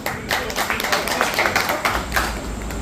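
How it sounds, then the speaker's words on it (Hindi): An audience at a talk on Sant Kabir's ideas claps together in a dense, steady patter of hand claps. The crowd is fairly near and the clapping runs throughout, mixed with some background voices. "दोनों लोगों ने ताली बजा दीजिए एक बार"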